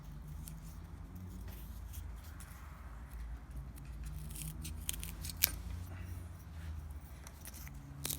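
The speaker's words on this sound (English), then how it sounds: "So this is what I'm using to cut the carbon fiber." Curved scissors snipping through carbon fiber, faint crisp clicks and cuts scattered irregularly over a quiet, low background.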